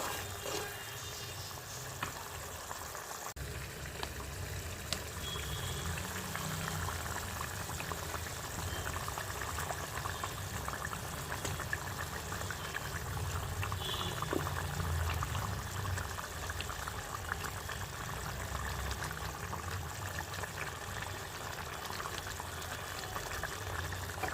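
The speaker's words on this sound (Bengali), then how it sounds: "তো ঝোলটা ফুটে এসছে এবার মাছগুলো ছেড়ে দেবো" Fish curry broth bubbling at a steady boil in a pot for a rupchanda (pomfret) curry, with a dense continuous simmering hiss and low rumble, fish going in; no talk.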